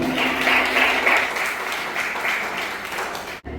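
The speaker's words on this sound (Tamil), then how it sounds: "உண்மையில் அவருக்கு ஒரு கரகோஷம்." A crowd at a student event in Jaffna claps briefly for a student performer, a short burst of moderately loud, even applause that cuts off abruptly at the end.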